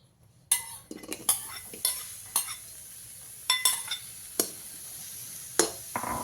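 Red onion going into a hot pan and being stirred, with a faint sizzle beneath repeated sharp clinks and scrapes of a utensil against the cookware, close and spaced irregularly.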